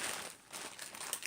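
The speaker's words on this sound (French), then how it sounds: "On va ouvrir ces derniers colis." Parcel packaging crinkling and rustling up close as a delivery is opened, a continuous soft crackle with small bursts toward the end, no voices.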